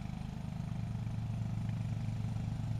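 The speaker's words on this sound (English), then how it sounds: "See the lawnmower through the fence?" A neighbour's lawn mower runs at night behind a fence, its small engine droning steadily at a moderate distance with a rough, pulsing chug and no talk.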